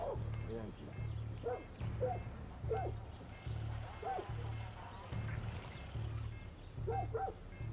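Dogs barking and scuffling in the video game Far Cry 6, with repeated rhythmic barks and growls over a low droning game background, at moderate volume.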